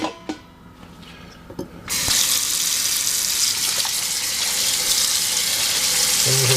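Kitchen tap water gushes steadily over cooked lasagna noodles in a sink, starting suddenly after a few quiet clicks and handling sounds, then running loud and close without talk.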